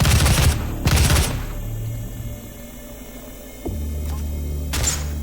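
Gunfire in the video game Doom: two loud, dense bursts of weapon fire in quick succession, then a low game hum, a sharp click and renewed rumbling blasts toward the end, with no speech.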